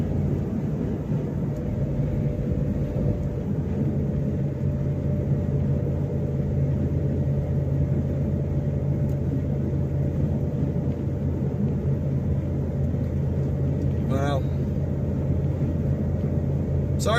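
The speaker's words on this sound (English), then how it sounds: "Sorry about how jiggly the truck is." A pickup truck rumbling and jiggling along a road on a 700-mile trip, a dense, continuous low drone of engine and road noise from inside the cab, steady and loud throughout, with a brief squeak near the end.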